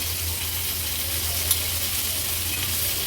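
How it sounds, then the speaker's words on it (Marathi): Fish frying in oil in a pan for an Agri-Koli style monsoon fish thali, a constant close, dense sizzle with no talk. "तुम्ही बघू शकता अगदी व्यवस्थित हा मासा फ्राय झाला आहे आता हा मासा आपण थोडा साईडला करून घेऊया"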